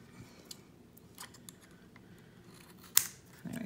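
Scissors snip cotton wick while building a Kelpie RTA vape atomizer: a few soft, quiet clicks, then one sharp, close cut near the end, with no talking.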